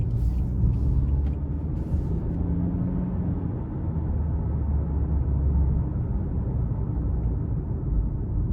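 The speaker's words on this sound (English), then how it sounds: "the road noise isn't that bad at all either. I can just barely hear the tires." Steady low road and tire rumble inside a 2022 Nissan Altima 2.5 SL AWD while driving, a constant muted drone with no talking.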